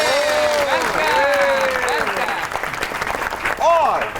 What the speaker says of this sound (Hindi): आपकी बहुत सी तालियों में फिल्म स्टार मीरा